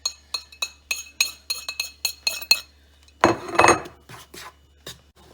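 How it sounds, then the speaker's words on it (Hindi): A utensil mixes flour, baking powder and salt in a bowl for a pineapple upside-down cake: a quick rhythmic run of sharp clinks against the bowl, then a short burst of scraping and rubbing, followed by a few scattered lighter taps. "नेक्स्ट स्टेप है फ्लावर में बेकिंग पाउडर और नमक डालना है और मिक्स करना है अच्छी तरह से"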